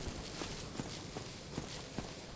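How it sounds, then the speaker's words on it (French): Footsteps thud in a regular, evenly spaced rhythm in the video game Dark Souls Remastered, faint and somewhat distant over a low ambient hum. "Ah, puis tous ces bruits de pas là autour."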